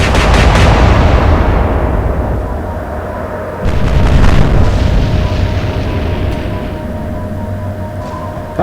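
A naval gun salvo in the video game Atlantic Fleet, warships trading fire. A loud blast opens, its rumble decays, then a second heavy boom lands midway and trails off in a sustained low roar with no voices.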